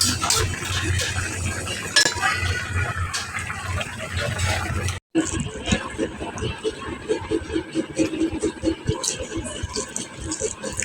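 Fish goes into a curry in a home kitchen pan and gets stirred, with scraping and clinking of utensil on metal and a faint sizzle. A brief cut breaks the sound midway.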